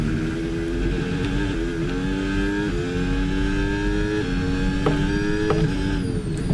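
Formula 1 car engine with boost in the F1 26 racing game, Cadillac car at the Canadian Grand Prix, a high, buzzing whine that climbs in pitch through repeated gear shifts, steady and close with no talking.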